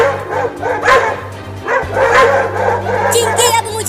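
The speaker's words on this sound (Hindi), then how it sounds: "अरे चिंकी, वो देखो, वो कुत्ता फिर से आ रहा है।" Two dogs barking in an outdoor setting, repeated loud yips and barks over steady background noise, with higher whimpering yelps near the end.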